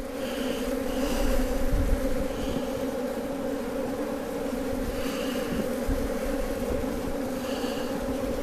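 Honey bees drone steadily around an opened hive, a dense, continuous buzz close by with a few passing bees swelling louder now and then, no talking.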